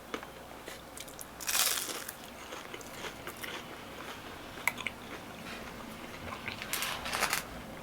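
Crisp bites and crunching into a fried Panda Express spring roll, a few sharp crunch bursts spaced out over steady chewing, close and fairly quiet with no talk.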